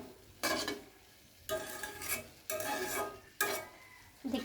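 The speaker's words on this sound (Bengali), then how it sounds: "দেন নাড়াচাড়া করে কিছুক্ষণ ভাজা ভাজা করে নামিয়ে ফেলব।" Potatoes with dried kachki fish and chopped coriander leaves are being stir-fried in a pan, with repeated bursts of spatula scraping and stirring over a soft sizzle and no talking.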